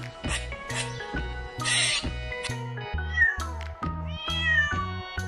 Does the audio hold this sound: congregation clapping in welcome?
no